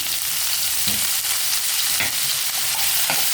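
Capsicum and carrot sautéing in a hot pan with turmeric and salt, giving a loud continuous sizzle broken by a few sharp stirring scrapes, no voices.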